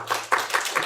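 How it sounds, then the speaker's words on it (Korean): Church congregation members clap in a quick run of about four separate, fairly close claps at a steady pace, with a low hum behind. "박수 한번 쳐주세요."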